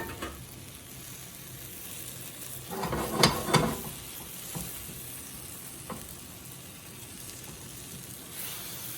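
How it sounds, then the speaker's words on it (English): Leftover green salsa hits hot leftover oil in a pan with a sharp sizzling burst that quickly settles into a quieter, steady frying hiss, with a couple of soft pan knocks. "we're gonna add the salsa right over it, and that's gonna heat it up and fry it at the same time"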